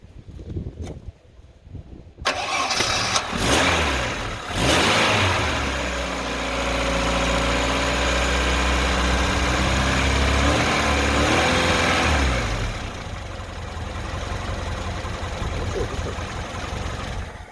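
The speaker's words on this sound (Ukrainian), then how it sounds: "ви можете запустити автомобіль і доїхати куди вам потрібно" A car engine cranked and started using a portable power station connected to the battery terminals: a brief crank, then the engine catches and settles into a loud, steady idle that later drops slightly in level.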